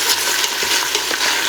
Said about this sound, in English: So we'll let these onions cook a little bit just to get that raw flavor out of them and allow them to caramelize a little bit.